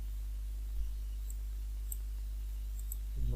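A computer mouse clicks on a save button: a few faint, short isolated clicks spaced through quiet room hum, ending with a slightly louder bump.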